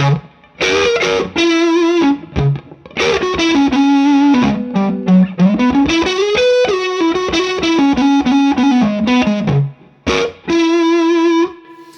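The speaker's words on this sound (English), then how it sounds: "that's the way the Germanium one sounds in this pedal" Loud, heavily fuzzed electric guitar through a germanium fuzz pedal, playing sustained notes and a rising and falling melodic run, with brief gaps between phrases.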